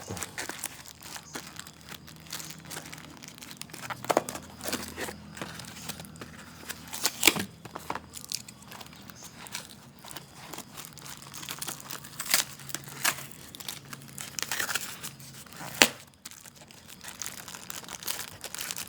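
Sticky tape being peeled and torn off the plastic packaging of a pocket knife with a built-in knuckle guard, giving steady close crinkling and crackling with sharp tearing bursts.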